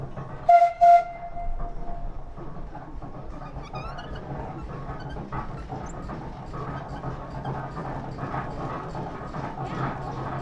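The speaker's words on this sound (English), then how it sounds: "It carries a variety of whistles on it, but back in the day really it only had one whistle for purposes of communication" A 1908 Dolbeer steam donkey logging engine, wood-fired, sounds two short loud whistle blasts near the start, then runs with a steady chuffing, clanking mechanical rumble that continues to the end.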